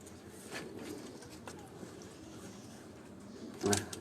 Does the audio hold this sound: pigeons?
yes